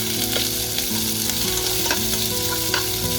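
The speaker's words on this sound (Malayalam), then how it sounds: "വെളുത്തുള്ളി കരിയാപ്പില ഒരു സവാള ഇത്രയും സാധനങ്ങൾ ഇട്ടിട്ട് നമുക്കിതൊന്ന് വാട്ടിയെടുക്കാം" Garlic, curry leaves and onion sautéing in oil give a loud, dense, steady sizzle close up, with a few stirring knocks and no speech.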